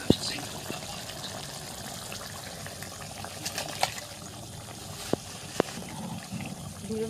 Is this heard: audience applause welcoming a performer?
no